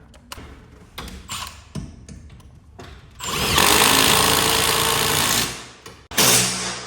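A power tool drives a lag bolt into a tab on a garage door torsion spring system, with a few short bursts of the motor followed by a long, loud, steady run up close.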